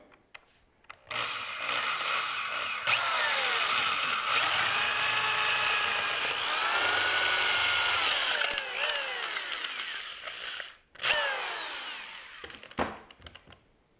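A half-horsepower DeWalt power drill whirs at high speed into a wooden barrel stave for several seconds, pitch shifting under load, then a couple of shorter bursts follow.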